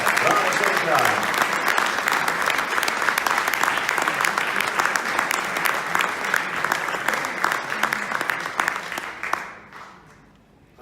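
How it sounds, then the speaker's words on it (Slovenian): Sustained audience applause for young athletes at a kayaking awards event, with dense, even clapping from a large crowd that continues for several seconds and then fades out quickly at the end. "Zdaj pa še en aplavz za naše mlade športnice in športnike"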